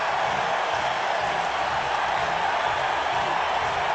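A baseball stadium crowd cheers in a dense, steady roar that stays loud and unbroken from start to finish.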